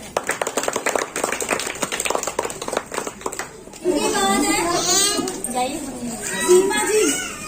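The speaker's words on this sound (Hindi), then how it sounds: "5 लोग के लिए जोरदार तालियां हो जाएं। जोरदार क्लैपिंग करना भाई।" Crowd applause for five winners at an outdoor street play (nukkad natak) on family planning in Trilokpuri, building to a dense, sustained clatter of clapping after a stretch of loud speech and children's voices.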